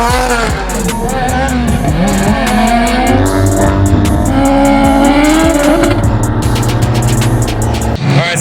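Rallycross race cars at a rallycross event roar loudly and continuously, several engines revving and shifting pitch in overlapping waves with brief tire squeals, while voices are faintly audible beneath the din.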